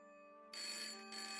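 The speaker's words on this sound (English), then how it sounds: "The freaking Bulbasaur phone." A phone rings in the point-and-click adventure game Broken Sword: Shadow of the Templars, a bright electronic tone starting abruptly after a quiet moment, with a brief dip before it sounds again, loud and alone.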